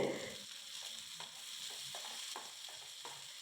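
Raw plantain being stirred in a hot frying pan, with repeated scraping strokes of the spoon over a steady, close sizzle of frying.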